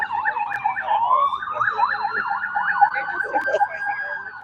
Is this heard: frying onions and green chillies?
no